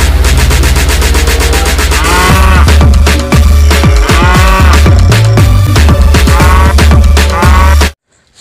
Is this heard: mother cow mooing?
yes